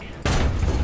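In War Thunder, a tank gun fires once at a Panzer IV, a sudden loud boom that sustains a rumbling roar for the rest of the short moment.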